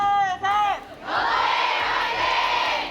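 A lone fan lets out a loud, sustained yell that rises into roaring crowd cheering at an Overwatch World Cup esports match in Korea, the cheer filling the arena for several seconds.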